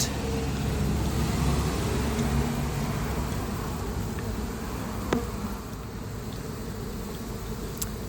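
A dense, steady drone of buzzing honeybees at a trap-out setup in Lakeland, Florida fills the air close by, with faint road noise in the background.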